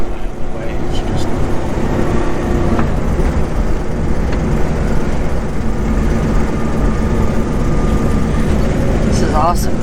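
A 1964 Studebaker Supercharged Daytona, a Super Lark tribute, drives along with a steady, loud low engine drone and road rumble throughout, heard from inside the car, with faint voices now and then.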